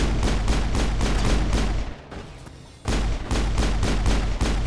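Rapid, evenly spaced pistol shots in the video game Mass Effect, loud and close, with a brief lull in the middle before the shooting resumes.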